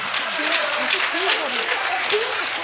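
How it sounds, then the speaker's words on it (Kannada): An audience at a primary school award ceremony claps steadily throughout, dense and fairly close, while a voice speaks over the applause. "ಎಲ್ಲರೂ ಜೋರಾಗಿ ಚಪ್ಪಾಳೆ ಕೊಟ್ಟು ಅಭಿನಂದನೆ ಸಲ್ಲಿಸುವುದು."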